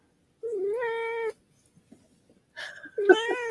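A kitten gives two drawn-out, plaintive meows with a short pause between them, close and clear with a few soft rustles in the gap.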